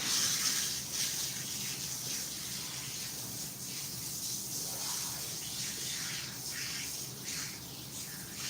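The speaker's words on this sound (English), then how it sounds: "I'm just going to rinse my hands off" Tap water runs steadily while hands are rinsed at a sink, a continuous close splashing gush with no talk over it.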